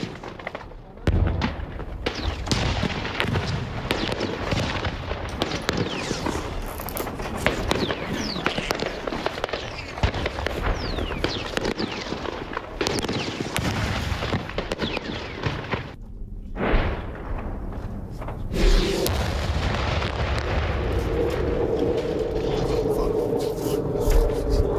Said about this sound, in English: began with a heavy exchange of machine gun fire followed by loud explosions